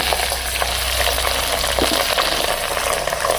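Green chillies and chopped onions hitting hot oil in a pan for bagara rice, giving a loud, dense and continuous sizzle with faint stirring clicks, close up and with no speech.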